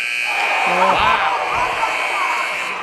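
At a boys' high school basketball game, the end-of-quarter buzzer sounds as a steady, loud drone over crowd noise, with a commentator talking over it.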